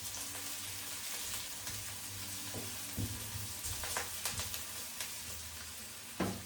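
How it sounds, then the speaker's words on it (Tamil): Curry leaves sautéing in hot oil in a pan, a constant crackling sizzle with occasional sharper pops and light stirring clatter, close and steady, no speech. "போட்டு வடிவாக வதங்க விட போகிறேன்."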